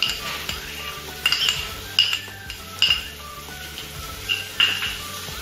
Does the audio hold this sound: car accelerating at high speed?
no